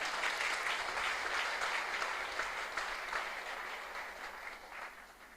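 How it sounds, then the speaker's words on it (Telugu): An audience at a golden jubilee celebration claps warmly, a dense steady applause that carries on for several seconds and fades slightly toward the end, with no speech over it. "ఒక్కసారి అందరం గట్టిగా చప్పట్లతో వారిని అభినందిద్దామా"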